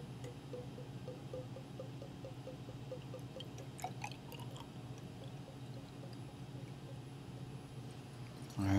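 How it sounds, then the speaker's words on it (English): Copper chloride solution poured into a U-tube in a lab demonstration, a quiet, steady trickling pour with small drips, close by and faint over a low hum, no talking. "We're going to take this copper chloride solution and I'm going to pour it into"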